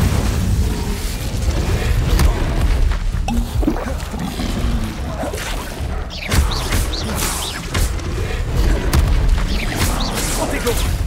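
Spell explosions from Confringo and Incendio in Hogwarts Legacy boom and crash repeatedly in heavy combat, loud rumbling bursts following one another, with a voice talking over the fight.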